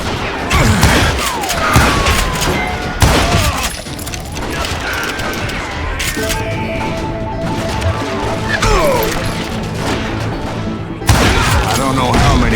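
Gunshots and crashing impacts in the Call of Juarez video game, with loud, dense bursts of combat noise, booms and smashes filling the scene and game music layered underneath.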